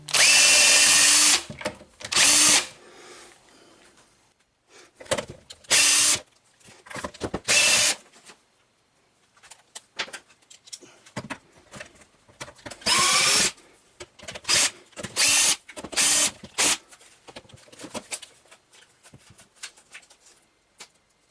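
A powered screwdriver takes screws out of a hedge trimmer, loud close bursts of whirring, each about a second long, repeating at irregular gaps with quieter handling clicks and rustles between.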